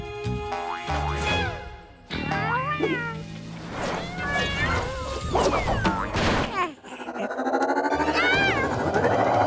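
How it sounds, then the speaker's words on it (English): Cartoon kittens meow repeatedly in high, rising and falling cries, several overlapping, with a few brief thumps and clatters mixed in and no speech. "There are still more kittens."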